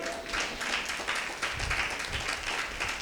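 A church congregation claps along during a sermon on faith and prayer, producing a dense, steady patter of many hands that sounds a little distant and moderately loud, with no talking over it.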